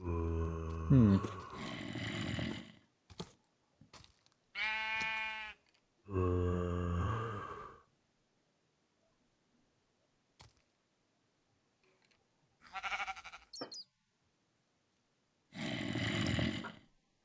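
Sheep bleating in a video game, heard as several short, separate calls with long quiet gaps between them, each call clear and fairly loud against near silence.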